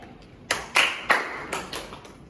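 A classroom of students claps hands during a word game in a microteaching lesson, giving a handful of distinct, separate claps in quick, slightly irregular succession, with no talking.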